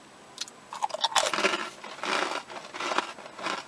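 A fortune cookie is snapped and crushed between the fingers, producing a series of sharp, close crunches and crackles that cluster together and then scatter off in smaller bursts.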